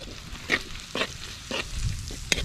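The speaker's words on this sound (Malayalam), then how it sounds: "നമ്മുടെ ഉള്ളി ഏകദേശം വാടി സെറ്റായിട്ടുണ്ട് കേട്ടോ ഇനി നമുക്ക് മല്ലിപ്പൊടി ഇട്ട്" Onions fry in coconut oil with coriander powder as a spoon stirs them, giving soft sizzling with a few sharp scraping strokes at regular intervals, close and fairly quiet with no talk.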